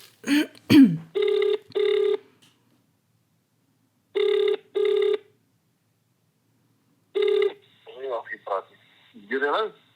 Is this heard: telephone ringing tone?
yes